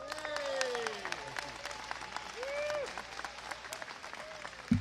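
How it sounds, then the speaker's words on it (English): An audience applauds their local alderman, Michelle Harris, at a new hydraulically banked track and field venue on Chicago's South Side. Clapping and crowd noise run throughout, with a few voices mixed in and a short knock right at the end. "So allow a round of applause for our local leader"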